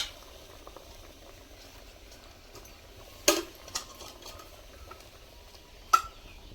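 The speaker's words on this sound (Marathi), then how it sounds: "आणि इकडं पण लई उकळी आली बा." A pot of wild badadya vegetable curry bubbles faintly and steadily, with a couple of sharper pops and clicks breaking through the quiet simmer.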